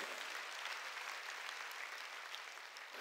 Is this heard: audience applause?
yes